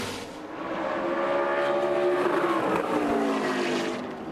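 A stock race car laps the track during qualifying at the 2023 UNOH 200, its engine note droning steadily and swelling as it passes at moderate distance, then easing away.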